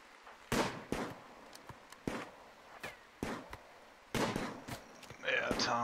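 Gunfire in the RimWorld video game: several sharp, loud shots in irregular succession, each with a brief decay, with some game effects near the end.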